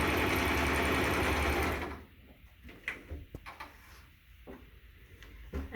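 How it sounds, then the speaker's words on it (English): A Singer Simple sewing machine runs a straight stitch in a loud, steady mechanical whir for about two seconds, then stops, leaving faint handling clicks and rustles. "I'll just do a straight stitch to start with and see."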